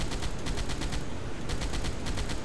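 A submarine deck gun fires in Silent Hunter 5 along the British coast, heard as a loud, dense run of rapid, evenly spaced blasts over a continuous roar.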